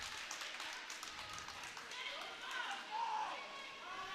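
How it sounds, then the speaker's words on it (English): A crowd at a roller derby bout between Hard Knox Roller Derby and Glass City Rollers claps and cheers in a steady, moderately loud wash, with voices talking over it throughout. "There's a big crowd here for Glass City. They just all erupted."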